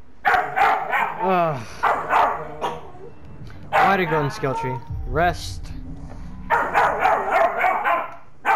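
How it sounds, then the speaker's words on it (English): A dog barks repeatedly in the video game Star Wars Jedi Fallen Order, bursts of loud barks and yips broken by short pauses, mixed with someone talking. "stop barking"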